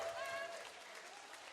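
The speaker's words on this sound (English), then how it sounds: "Give her a round of applause for the confidence walking around." Applause from a live comedy audience, a brief, faint and steady patter of clapping heard from a distance with some voices mixed in.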